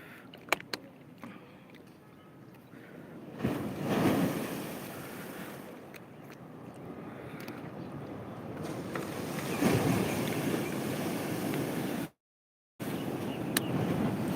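Sea waves roll and break continuously along an ocean shore, a steady washing surf with surges swelling louder around the middle and later, heard alone with wind and no talking.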